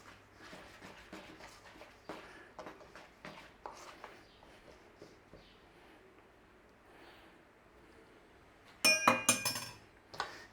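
A fork scrapes and taps softly in a mixing bowl while making Cherry Bakewell tart pastry, giving faint scattered clicks before a louder burst of bright clinks near the end.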